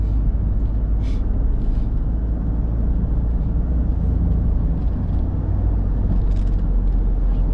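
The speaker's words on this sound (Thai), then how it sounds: "รถติดมากเลยแถวประตูน้ำนะ" Heavy car traffic on a congested Bangkok road near Pratunam, a dense, continuous rumble of engines and tyres that stays loud and even throughout, with no one talking.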